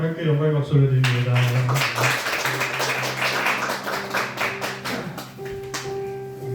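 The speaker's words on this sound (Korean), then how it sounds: "우리 하나님께 영광의 박수를 드립니다." A church congregation at a Sunday worship service claps together in a dense burst of applause that follows a sung or spoken voice at the start, continuing steadily throughout.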